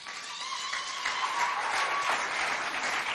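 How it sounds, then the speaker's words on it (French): Audience applause following a poem recitation at a school event, steady dense clapping from a crowd that swells slightly and holds throughout, with no talking. "on applaudit encore bien fort"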